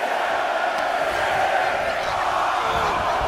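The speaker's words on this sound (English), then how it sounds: "Just listen to the crowd!" A WWE 2K24 wrestling match crowd roars and cheers in a sustained, dense wash of sound that holds steady throughout at moderate loudness.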